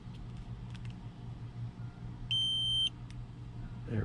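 A single short electronic beep from a FOBO tire pressure monitoring device entering pairing mode sounds clearly over a low steady hum, preceded by faint clicks.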